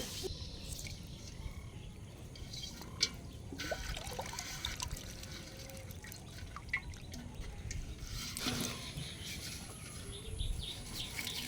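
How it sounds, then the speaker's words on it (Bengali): Freshly caught fish, including singhi and puti, tipped with water into a pot outdoors in a village fishing scene: soft trickling and dripping water with scattered splashes, and faint birdsong in the background. "এবার মাছ ঢালা হবে হাঁড়িতে।"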